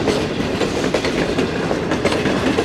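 The Business Express, with a newly changed rake of mixed coaches including new AC standard cars, thunders nonstop through Chanesar Halt in Karachi, wheels clattering loudly in rapid rhythmic clicks close by.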